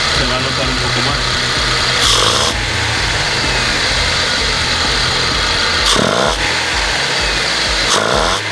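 Chevy throttle-body-injected engine idling at low speed, a loud steady mechanical drone with repeated whooshing bursts, under someone talking.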